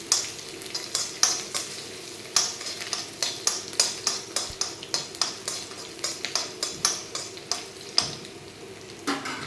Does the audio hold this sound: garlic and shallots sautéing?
yes